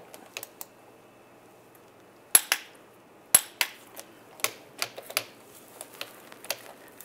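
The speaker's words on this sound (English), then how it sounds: "Now you want to torque those bolts to 29 foot-pounds" A torque wrench tightens the CV axle bolts to 29 foot-pounds on a 1999-2005 Volkswagen Jetta's front passenger side, giving sharp, irregular metallic clicks and ticks, two of them louder and distinct, against a quiet background.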